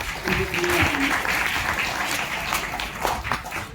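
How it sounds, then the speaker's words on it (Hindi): An audience at a World Environment Day program at a science centre bursts into sustained applause, dense and loud throughout, with a voice speaking briefly over the clapping. "एक बार जोर से माता के लिए हम तालियां बजाएंगे।"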